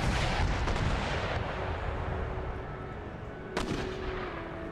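Mortar artillery barrage in the video game Empire Total War during the Battle of Berlin: a dense, continuous roar of distant firing with one sharper blast standing out near the end, no voices.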